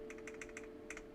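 Keys clatter on a computer keyboard in quick bursts of clicks, two clusters separated by a short pause, fairly faint and close over a steady low hum.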